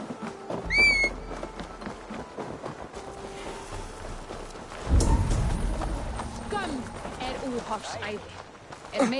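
Horses in the game Assassin's Creed Valhalla trot and gallop with intermittent hoof clip-clop and a brief whinny near the start. Spoken dialogue runs throughout, and a low rumbling swell comes midway.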